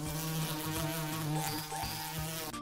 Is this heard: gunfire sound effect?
no